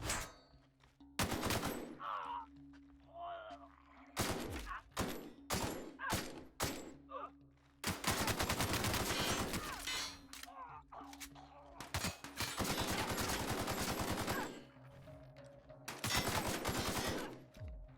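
Automatic gunfire from a rapid-firing gun in the video game Fallout: several long, loud bursts of rattling shots broken by short pauses, with some voices in the quieter gaps.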